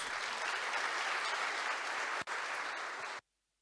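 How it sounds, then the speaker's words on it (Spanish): Church congregation at a Bible conference applauding to welcome a visiting pastor, steady dense clapping for about three seconds with a brief dip, then cutting off abruptly to silence. "vamos a recibirlos al pastor Yongguk Park con grande aplauso"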